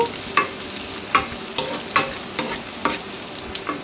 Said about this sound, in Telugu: ఇప్పుడు మొత్తం కూడా ఫ్రై అయ్యే విధంగా ఈ విధంగా ఫ్రై చేసుకోవాలండి, గరిటెతో కలుపుకుంటూ